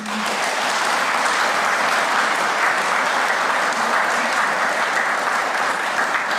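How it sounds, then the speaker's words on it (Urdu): Sustained applause from an audience at a ceremony distributing interest-free loan cheques under the Mezban programme, loud, dense and steady throughout with no talking over it. "تو برائے مہربانی آپ تالیاں بجائیں۔"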